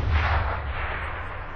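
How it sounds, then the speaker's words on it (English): Bombard artillery fires in the Civilization VI strategy game, a loud, sustained booming rumble that fades slowly, with no voices over it. "Okay, bombards keep bombarding."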